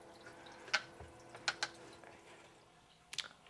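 Leftover water drains from an aquarium protein skimmer in a few sparse, sharp drips and trickles, quiet and close, spaced irregularly over a hushed background.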